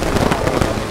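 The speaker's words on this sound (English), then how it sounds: "Artillery strike!" Artillery shells exploding in the military shooter Squad, a rapid cluster of sharp, loud blasts and crackling bursts packed into a single second with no talk.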